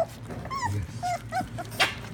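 A dog whimpers and whines for puppy food, giving several short high-pitched cries and a brief sharper yelp close by, with a low grumble underneath and no talking.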